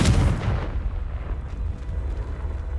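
A fiery Confringo spell explosion in the Hogwarts Legacy video game bursts loudly at the start, then trails into a sustained rumbling roar that fades only slightly over a few seconds.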